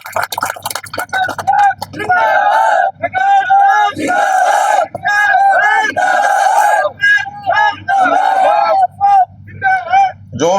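At an outdoor election rally in Bapini near Jodhpur, a large crowd roars and chants in loud, sustained bursts, voices rising together with brief pauses between swells.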